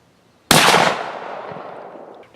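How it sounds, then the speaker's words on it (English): A single loud rifle shot at an outdoor shooting range, a sharp sudden crack that fades into a long rolling echo over about two seconds, with no voices. "5 shots, ready? Go for it."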